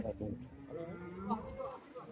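A dairy cow at the Vaniyambadi cattle market gives a clear, close, drawn-out moo while voices talk nearby.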